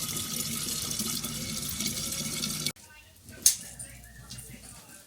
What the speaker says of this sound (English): This is the calcium water. It comes from deep inside the cave.